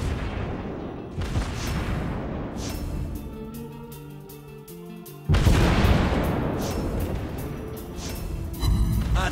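Heavy naval gun blasts boom in World of Warships Blitz, loud deep explosions with rolling rumble, a sudden louder salvo midway, then more firing toward the end.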